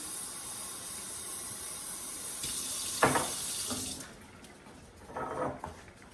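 Water runs from a kitchen tap with a steady hiss, surges briefly as it splashes, then cuts off before a short second pour, while water is added to meal prep containers.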